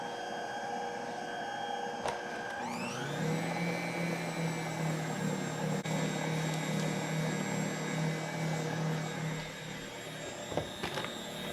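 An electric mixer beating an egg into cranberry cookie dough spins up with a rising whine, then holds a steady, loud motor hum for several seconds before winding down near the end.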